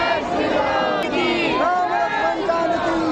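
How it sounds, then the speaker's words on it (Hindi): A huge, dense crowd of devotees packs Hanuman Garhi temple in Ayodhya during Ram Navami, with a continuous roar of overlapping voices and chanting close around, loud and unbroken. "भयंकर भीड़"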